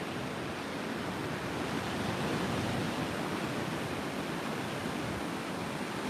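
Ocean waves wash onto the beach at Navarre in a steady, continuous roar of surf that stays fairly loud and even throughout, with no voices.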